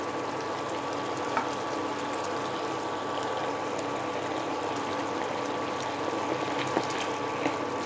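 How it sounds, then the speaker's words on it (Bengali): Eggplant curry sauce bubbles steadily at a full boil in a pan over raised heat, a soft, continuous simmering hiss with faint occasional pops, alone and fairly quiet. "ঝোলটা ফুটে উঠেছে।"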